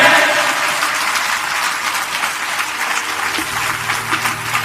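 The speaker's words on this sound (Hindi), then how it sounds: "हाकेश्वर महादेव की बड़ी मजा की ताली बजाओ, मरी मरी मत बजाओ।" Applause from a devotional satsang gathering honouring Hakeshwar Mahadev, a dense wash of many hands clapping steadily and fairly loud, easing slightly toward the end, with no voices rising above it.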